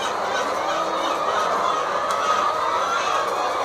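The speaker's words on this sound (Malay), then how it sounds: "Beginilah kemeriahan suara-suara ayam." Dense chorus of egg-laying hens clucking and cackling continuously inside a tiered chicken house on a farm, a busy, steady din with no voices.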